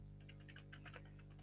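Fingers typing on a computer keyboard while logging frozen blueberries, a quick run of soft clicking keystrokes over a steady low electrical hum, faint and close.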